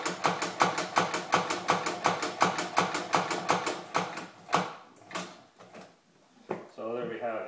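A heavy 42-inch long-arm sewing machine thumps through thick webbing in a fast, steady rhythm of loud stitches, then stops; a person starts talking near the end.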